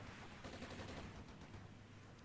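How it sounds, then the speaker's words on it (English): An APC being hit by gunfire in the tactical game Armored Brigade: a faint, continuous crackle of rapid small-arms fire, dense and distant-sounding, with no talking. "So our APC is getting hit."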